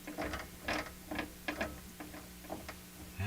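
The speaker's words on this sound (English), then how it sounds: "It has kind of a bad sound to it, doesn't it? Again, it just sounds like dry gears." Dry gears in the tuning mechanism of a Hammarlund SP-600 communications receiver, its knob loose on the shaft, turning with a quick uneven run of gritty ticks and clicks, close and fairly quiet with no talking.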